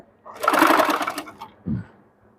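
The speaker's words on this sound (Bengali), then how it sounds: "পাইপিনটা আমাদের একটু করে টেনে টেনে এরকমভাবে সাইড দিয়ে সেলাই দিয়ে নিতে হবে" A sewing machine runs in one steady burst of about a second, stitching piping onto a dress neckline, then stops with a soft low thump and quiet.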